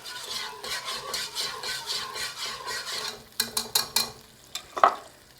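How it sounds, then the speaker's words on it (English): Whisk scraping around a pan as a cup of chicken broth deglazes it for one-pot Tuscan chicken, a close steady rhythmic swishing over a soft sizzle, then a few sharper metallic taps at the end. "I'm just going to take my whisk and move it around to kind of deglaze the pan"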